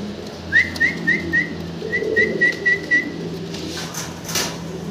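Soft repeated whistling calls in a steady series over a low background hum, with faint rustling, fitting pigeons cooing nearby.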